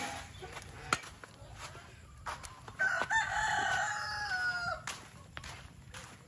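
Chickens on a farm, one with a wheezy, rattling breath: a rooster crows loudly once in the middle, with scattered clucks and sharp knocks around it in a quiet outdoor setting.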